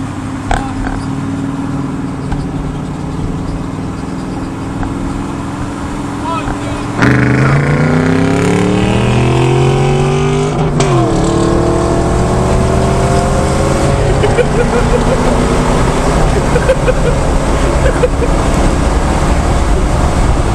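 Pontiac GTO with aftermarket headers and exhaust accelerating hard in an impromptu drag race, the engine note climbing steeply through gear changes, loud and close inside the car, with people talking over it.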